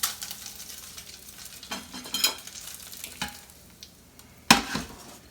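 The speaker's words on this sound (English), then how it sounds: "I'm going to get that heated up and brown just a little bit." Chicken browning in a hot pan for an omelette gives a steady sizzle, with a few scraping stirs and one sharper clatter near the end; no voices.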